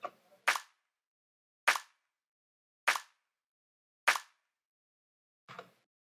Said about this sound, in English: here's the layered clap basically